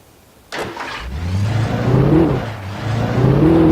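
A car engine in the video game Alan Wake cranks over with a sharp onset, then settles into a steady, close, mid-pitched rumble that rises slightly as if revving, with no talk over it.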